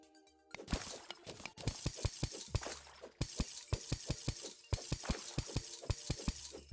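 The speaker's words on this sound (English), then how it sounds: "all that sound of breaking glass" Glass shatters over and over in Terraria, with rapid crashing bursts repeating in rhythmic runs across several seconds, loud and busy with no talking.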